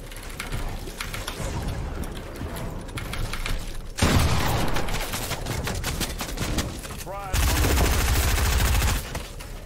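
Gunfire in Fortnite, with rapid volleys and repeated shots that come in loud bursts and shift in intensity, and a voice talks briefly over the shooting.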